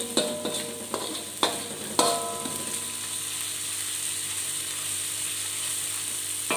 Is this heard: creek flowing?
no